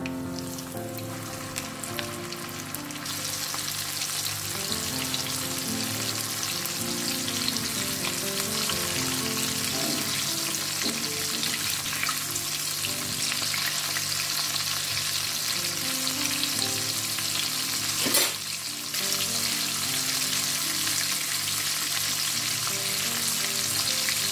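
Chicken pieces deep-frying in hot oil give a steady, loud, dense sizzle that runs unbroken throughout, with a brief clatter partway through and no voices.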